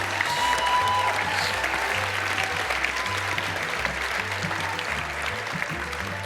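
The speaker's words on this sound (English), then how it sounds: "Let's have another wonderful round of applause for the tailoring class." Audience at a college apparel design fashion show applauding the tailoring class, dense sustained clapping filling the room for several seconds, with low music or a faint voice underneath.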